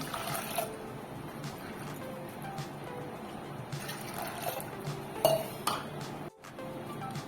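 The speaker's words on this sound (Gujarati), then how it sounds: "બે કપ પાણી ઉમેરી દઈએ" Two cups of water are poured onto soaked chana dal in a pressure cooker, making a quiet, steady trickle and splash, with light metallic clinks of the vessel near the end.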